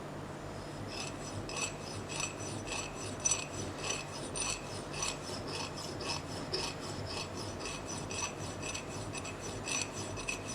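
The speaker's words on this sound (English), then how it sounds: "I can start filing and sanding it flush with the surface of the metal" A metal file rasps gold inlay flush with a metal surface in steady, rhythmic back-and-forth strokes, close and fairly quiet, with no talking.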